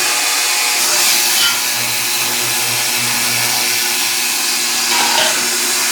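An ultrasonic cleaner filled with hot solution near 78 degrees Celsius hums loudly and steadily, with a harsh high-pitched whine running through the whole stretch and no talking over it.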